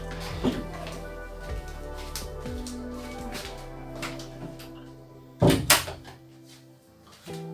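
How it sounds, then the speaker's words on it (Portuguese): A door swings shut indoors with a sharp, loud thump near the end, followed by a brief rattle, after a stretch of quieter background noise and faint shuffling. "Fechar a porta lá."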